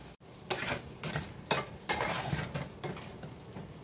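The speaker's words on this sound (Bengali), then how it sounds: "আলুগুলো ভাজছি" Potatoes fry in a pan during home holiday cooking, with repeated scraping and clattering strokes of a utensil against the pan over a faint steady sizzle.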